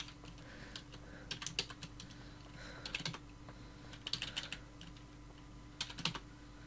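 Computer keyboard typing, short clusters of light, close key clicks separated by brief pauses over a quiet background hum.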